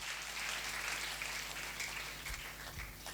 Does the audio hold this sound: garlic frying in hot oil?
no